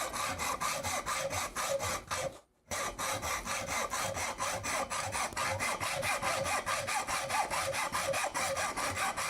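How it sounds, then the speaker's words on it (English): A hacksaw cuts with steady, rapid back-and-forth rasping strokes, loud and close, pausing briefly once before resuming the same even rhythm. "I've tried all kinds of different methods of getting the hacksaw to cut straight."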